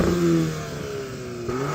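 A VW Golf R engine revving at a drag race lineup, a loud close mid-pitched growl rising and falling in pitch across one continuous rev, with no talk.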